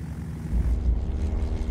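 A spotter airplane flies overhead on a search for wildlife troopers in 20-below Alaskan cold, heard as a steady low propeller-engine drone that swells and holds, moderately loud with no talk.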